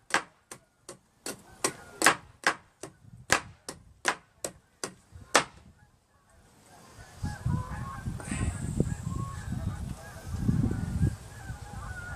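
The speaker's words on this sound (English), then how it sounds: "here come the honkers" Geese honk in a flock outdoors in woodland, their calls rising in rough bursts, after a run of about a dozen sharp, evenly spaced knocks that stop abruptly.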